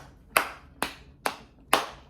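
Four separate, sharp hand claps spaced about half a second apart, close and loud against a quiet background, from a single person.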